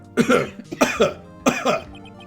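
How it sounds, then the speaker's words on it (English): Three separate coughs come close together, each a short harsh burst with a throaty catch, loud and close, with short pauses between them. "had to cough when he had a cough"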